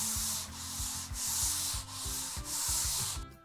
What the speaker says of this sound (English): so that completes the leveling part of our sanding process